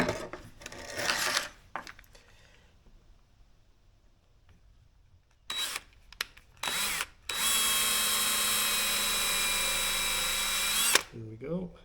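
A power drill bores half-inch-deep screw holes into wood backed by a scrap block, with short bursts, a quiet pause, then a long steady whining run before stopping.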